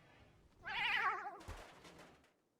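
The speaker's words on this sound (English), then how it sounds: "Meow. Meow." A cat in the game RimWorld lets out a single loud, drawn-out meow with a wavering pitch, followed by a short thud and fading game sounds.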